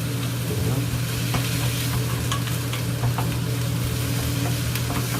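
Squid and frozen vegetables stir-fried in a pan give a steady, close sizzle, broken by scattered clicks and scrapes from stirring, with no talking.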